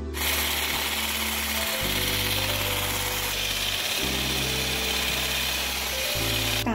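An electric mixer whips a low-sugar strawberry marshmallow mixture with a constant close motor whine that shifts pitch a few times as the beaters work.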